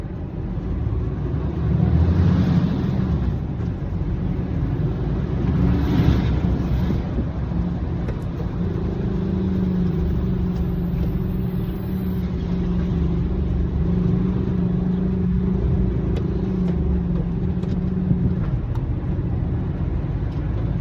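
Steady low engine rumble from a truck towing a box trailer on the road, with constant road and wind noise and no clear changes over about twenty seconds.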